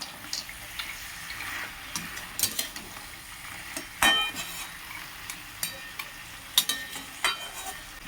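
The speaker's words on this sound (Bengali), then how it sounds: "এইবারে বড়িগুলো ওপর থেকে দিয়ে একটু ভালো করে ওলট পালট করে দিয়ে" Fried lentil dumplings (bori) are tossed and stirred through greens in a pan, producing scattered light ticks, clinks and scrapes over a faint frying hiss, with a few louder knocks along the way.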